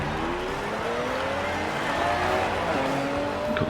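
A Lamborghini Urus in a Forza Horizon 2 highway street race gives a steady, loud engine roar with climbing revs. Faint tire squeal sits under it, with no talk.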